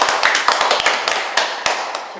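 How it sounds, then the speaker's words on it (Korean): An audience claps together at a Korean art talk event with invited artists, a brief round of scattered, fairly close hand claps over a steady crowd wash. "저 2부에서 박수 한번 쳐드릴까요?"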